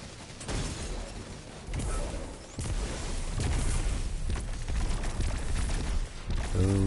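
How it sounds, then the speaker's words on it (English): Explosions and gunfire in the video game Destiny 2 Beyond Light: a dense, rumbling barrage of blasts and crackling bursts rolling on continuously at moderate loudness. "Those are the explosions we're looking for."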